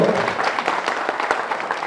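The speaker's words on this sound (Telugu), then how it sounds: "చప్పట్లతో" A crowd at an outdoor Congress party village gathering claps together, a dense patter of applause lasting a couple of seconds at moderate loudness.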